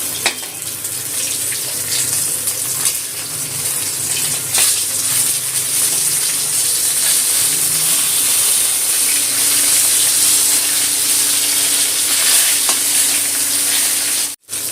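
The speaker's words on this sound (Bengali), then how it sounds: "লেজটা খুব ভালো করে উল্টো পাল্টে ভেজে নিতে হবে।" Rohu fish tail frying in hot oil, a loud, dense and continuous sizzle heard up close, with occasional faint knocks as the piece is turned. No one speaks.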